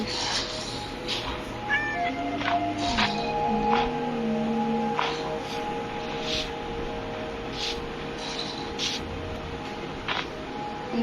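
A cat meows several times in a multiplayer survival video game, short rising calls spread over steady background noise, with a few faint clicks and tones mixed in.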